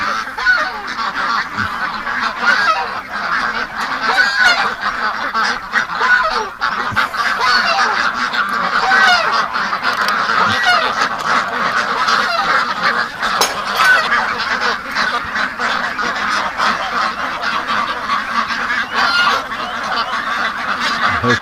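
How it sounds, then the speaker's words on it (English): A large group of ducks at a lake honking and quacking continuously, a dense, busy chorus of overlapping calls close by that persists throughout. "What a group of ducks"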